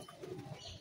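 A caught female pigeon, held in the hand, gives a soft, low coo, a brief murmuring call rising and falling once or twice, close by and faint.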